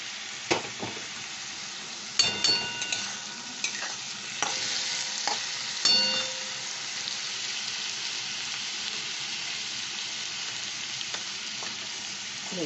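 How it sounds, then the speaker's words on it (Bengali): Marinated chicken going into a hot pan for chicken dak bungalow curry and being stir-fried, with a few sharp clatters and scrapes early on over a steady soft sizzle that carries through to the end. "মেখে রাখা এই চিকেনগুলো এবার দিয়ে দিই।"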